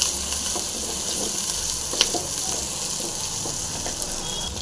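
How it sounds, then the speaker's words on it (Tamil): Shallots frying in a pan with ginger and garlic added for a green peas dish, producing a continuous close, bright sizzle with a few sharp spatula clicks and no talking. "வெங்காயம் போட்டாச்சு இது இஞ்சி பூண்டு போட்டுடலாம் இது பாருங்கள் சாம்பார் வெங்காயம் நல்லா ஃப்ரை ஆகட்டும்"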